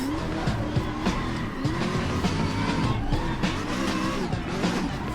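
Video game car held in a long power slide, engine droning loud and steady with tire screech running throughout and a few sharp squeals rising over it.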